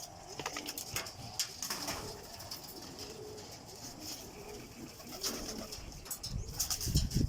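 Racing pigeons coo softly and steadily in an outdoor loft in Pangasinan. The sound is a continuous low murmur with a few brief flutters and bird calls over light background noise.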